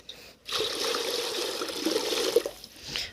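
Water trickles and splashes steadily for about two seconds as it is poured out for ducklings, starting abruptly and then tapering off.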